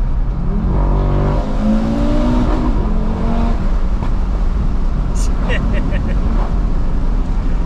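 An Audi RS3 engine revs hard and bounces against the rev limiter, its loud stuttering drone filling the cabin, with a voice speaking over it.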